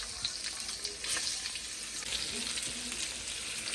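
Okra pods frying in oil with turmeric and asafoetida for a spiced Gujarati okra dish: a steady, close, broadband sizzle that runs throughout, with no voices.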